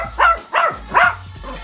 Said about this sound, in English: Popeye's gonna bark, of course.